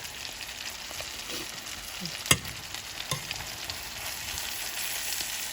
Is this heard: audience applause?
no